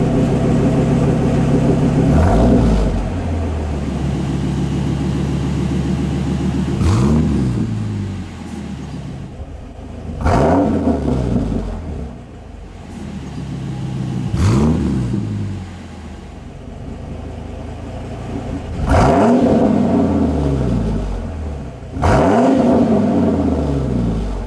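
Motorhome engine with a new exhaust revving in repeated bursts roughly every four seconds, each rev climbing and falling back to a steady loud idle rumble, close by with no talking.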